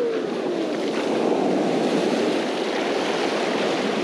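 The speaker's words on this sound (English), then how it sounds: "look for where the waves kind of cross, like right here, they kind of cross each other" Surf on a Florida beach in cold, murky water breaks and washes in a loud, continuous roar heard up close, with some wind noise on the microphone.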